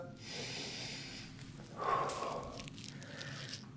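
A single deep breath taken and released during a wrist stretch exercise, a soft airy inhale-exhale swelling near the middle, close and alone with no talk.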